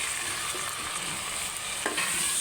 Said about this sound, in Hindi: अब टमाटर डाल दें।